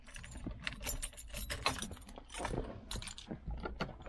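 Car keys jangle and clink together in steady, close metallic rattles for several seconds, with no talking.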